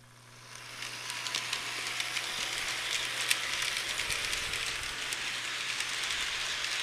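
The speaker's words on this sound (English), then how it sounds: "This engine is pulling a 10-car freight train, complete with a caboose." A model freight train engine pulling a ten-car freight train with a caboose rolls steadily along its track, a continuous rattling clatter with faint rhythmic clicks and a low steady hum, no talk.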